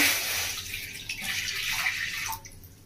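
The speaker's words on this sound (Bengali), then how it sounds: "কড়ার মধ্যে দিয়ে দেবো জল।" Water pours steadily into a kadai set on the stove for cooking masoor dal with mango, a continuous splashing rush close by that tapers off near the end, with no voices.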